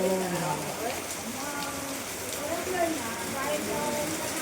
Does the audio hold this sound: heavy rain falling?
yes